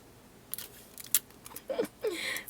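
Scissors snip through patterned scrapbook paper in several quick, close cuts with brief pauses between them, in a quiet room with no talking.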